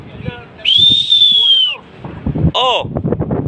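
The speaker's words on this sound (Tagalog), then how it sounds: "Sumisipol, oh." Wind whistling outdoors as rain approaches: one sustained, slightly wavering high whistle lasting about a second, then a shorter swooping tone, with voices talking around it.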